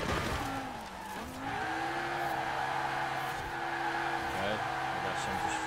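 A car drifting in Forza Horizon 4, with a steady engine drone and sustained tire squeal sliding up and down in pitch through the corner, while a person talks over it.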